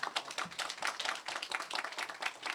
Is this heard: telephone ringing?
no